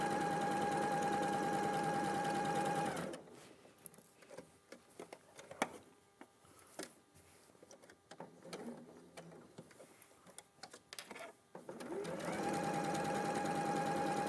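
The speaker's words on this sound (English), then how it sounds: "We'll just get some of the sewing done now." A sewing machine stitches in steady whirring runs at the start and end, with quieter handling clicks and rustles between them.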